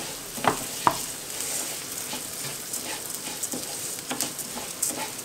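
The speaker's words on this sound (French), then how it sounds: "Donc je le mélange bien dans l'huile." Rice stirred in hot oil in a frying pan for risotto, a steady sizzle broken by occasional scraping knocks of the spoon, close and alone with no talking.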